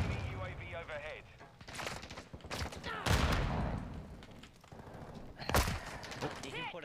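Gunfire in Call of Duty Modern Warfare II sounds as several bursts and sharp shots, close and loud, mixed with game effects and a speaking voice.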